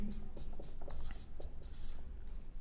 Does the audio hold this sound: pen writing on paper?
yes